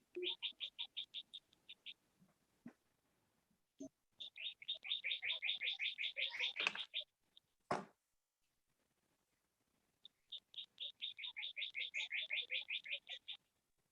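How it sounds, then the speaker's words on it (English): Birds chirp in bursts of rapid, high repeated notes in the background of an online court video call, with quiet gaps between phrases and a few soft clicks, no talking. "Somebody has like some nice birds in the background, Brenna."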